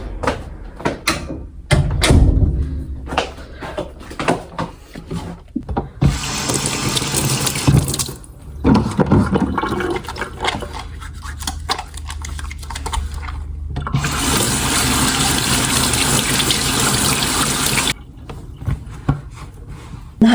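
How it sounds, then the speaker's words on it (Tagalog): Tap water gushes into a kitchen sink in Japan while dishes are washed, with steady running streams broken by clinks, handling noises and brief pauses, fairly close and loud; no speech. "So ngayon, hugas muna ako ng aking mga plato gamit kanina."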